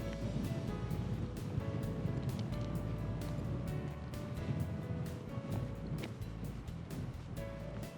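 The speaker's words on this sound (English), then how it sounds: "It's a bit breezy here." Wind blowing across an exposed Cornish coast path near Porthtowan, a continuous rough rumble with gusty buffeting on the microphone, no talking.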